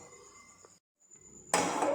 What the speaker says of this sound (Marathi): कढई ठेवूयात